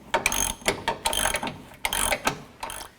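Close, loud ratchet clicks in rapid repeated bursts as lower control arm bolts are snugged on a 2008–2014 Cadillac CTS, with no talk.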